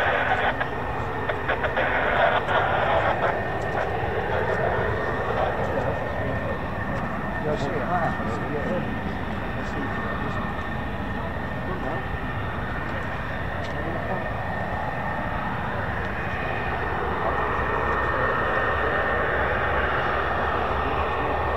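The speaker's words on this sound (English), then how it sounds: "hopefully we've got F-15s coming out later" F-15 fighter jets taxi on an airfield, their engines giving a steady, loud, continuous roar that fills the whole stretch without a break.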